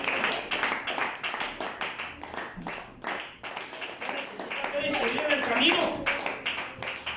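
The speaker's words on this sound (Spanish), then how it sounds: "Le doy un aplauso al Rey de la Gloria." A church congregation claps, a dense run of many hands clapping steadily with a few louder rhythmic swells, with voices talking and calling out over it.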